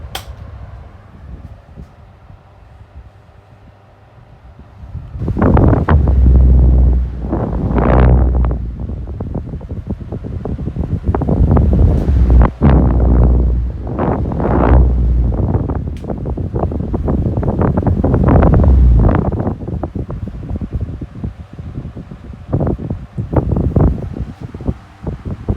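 Two 12-inch desk fans, a 1995 CED and a 1993 Astor, run on medium speed, giving a steady close whooshing airflow with rumbling, gusty wind-like buffeting that swells and fluctuates, with no talking.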